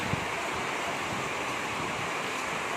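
Typhoon Ulysses lashing a neighborhood as flood water rises into houses: a loud, unbroken roar of wind and rushing water, dense and steady throughout with no voices over it.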